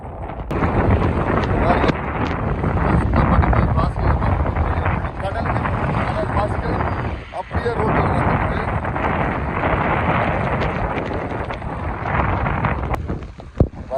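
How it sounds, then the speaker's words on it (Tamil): Strong wind gusting steadily and loudly into the microphone on a coastal sea road in Sri Lanka during flooding, a continuous roar with slight dips. "நேற்று காற்றுல இந்த சரியான காற்றா இருக்கேண்ணா சரியான காற்றா இருக்குது"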